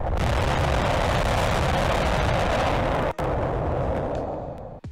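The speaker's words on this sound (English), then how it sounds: "First test duration, firing of three Raptors on Super Heavy booster." SpaceX Super Heavy booster B3 on a static fire with three Raptor engines, a continuous loud broadband roar that holds steady for several seconds, breaks off abruptly, then resumes and tapers.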